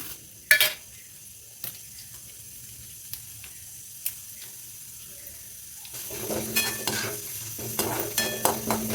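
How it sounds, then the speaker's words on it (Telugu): Tempering spices fry in hot oil in a pan, first a faint hiss with a few sharp metal taps, then a louder, denser sizzle with stirring in the last few seconds. "పోపు వేయించేసుకుందాం"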